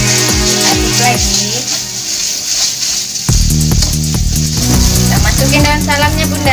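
Hot cooking oil sizzling in a pan while being stirred, a hissing fry that grows louder and denser partway through, with background music playing underneath.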